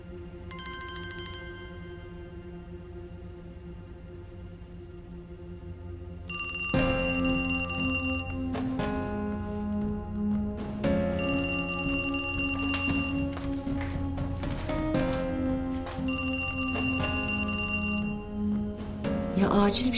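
A forgotten mobile phone rings in a house, a short bright tone first, then several repeated bursts of a melodic electronic ringtone, fairly loud and close, with faint background sounds between bursts.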